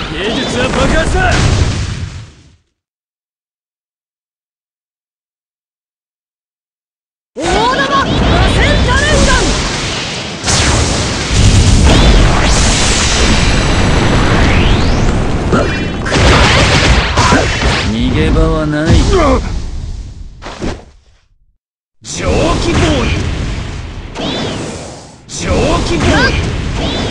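Loud booming blasts and bursts from Naruto Online Mobile, mixed with shouted Japanese voices and energetic effects, broken by a few seconds of silence.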